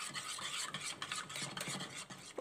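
A spoon stirs a baby pudding mixture with water in a pot, producing soft, rhythmic scraping and rubbing strokes, close and fairly quiet, with no talk.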